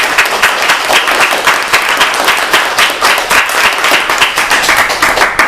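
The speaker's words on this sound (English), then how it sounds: "deserves a round of applause" A crowd applauds loudly and steadily after a talk, dense clapping filling the whole stretch without pause.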